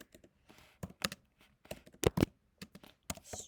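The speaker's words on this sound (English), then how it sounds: "So we're gonna type in" Fingers tap on a computer keyboard in a short, uneven run of crisp key clicks, a few louder strikes standing out, close and alone with no talking.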